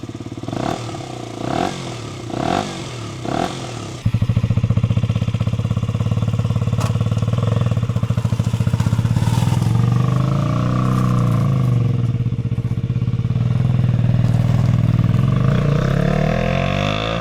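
A KTM Duke 125 motorcycle with the exhaust baffles removed gives several short throttle blips over the first four seconds, then holds a loud, raspy, continuous rev with clattering mechanical noise, close up and without talk.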